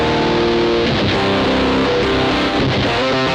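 With the Bad Penny switched on, a Gamechanger Audio Plasma Pedal turns electric guitar into thick, saturated distortion, several loud chords changing in a steady strummed sequence with no pauses.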